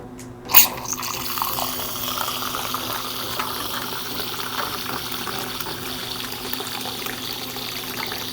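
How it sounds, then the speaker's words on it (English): Water flushing through the tap of a Growler Werks uKeg nitro cold brew maker, pushed by leftover gas cartridge pressure: a sharp burst at the start, then a steady, close hissing gush with no talk. "we want to reuse the remaining gas in the cartridge to start flushing the rest out until we have clear water coming through"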